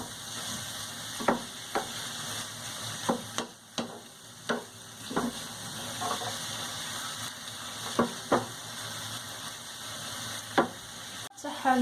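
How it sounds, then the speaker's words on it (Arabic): Shrimp sautéing in a pan for a seafood and chicken paella, continuous close sizzle broken by repeated scraping stir strokes at an irregular pace. "شحرنا القمرون كيف ما كتشوفوا"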